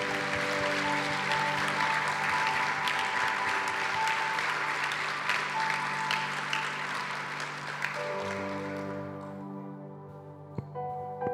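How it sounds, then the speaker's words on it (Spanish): A church congregation breaks into sustained, loud applause that fills the room, with music sustaining underneath, then thins and fades out near the end as the music carries on. "Pueden darle un fuerte aplauso al Señor"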